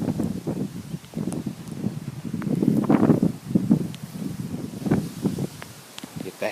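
Strong gusts during a severe thunderstorm under a shelf cloud batter the microphone outdoors, loud low rumbling buffets that surge and ease in waves.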